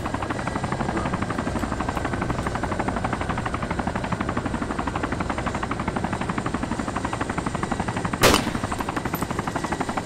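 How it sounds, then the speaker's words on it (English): Rapid gunfire from a player shooting in the video game DayZ, a steady close burst of shots running the whole way under a helicopter-like drone, with one sharp louder crack near the end. "He's shooting at you."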